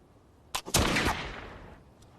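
A single gunshot cracks sharply at a shooting range with the target 10 metres away, followed by a brief echoing decay; a quieter report precedes the main blast.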